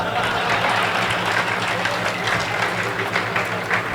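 Audience at a Hindi comic poetry recital breaks into dense, sustained applause, a steady wash of clapping with some voices mixed in.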